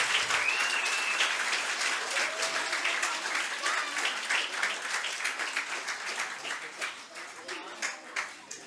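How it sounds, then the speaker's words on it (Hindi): Sustained audience applause at a children's summer theatre workshop, dense clapping from a crowd filling the room and tapering slightly toward the end, with scattered individual claps standing out. "आप लोगों से आशा करते हैं एक जोरदार तालियों से इनका इस मेहनत का आप रंग लाइए।"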